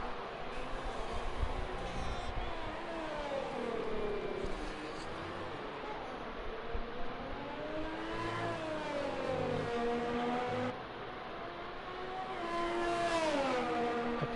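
Race car engine in a racing video game, GP2 car on a wet Belgian circuit, revving high then dropping pitch through a downshift and climbing again, loud and continuous with commentators talking over it.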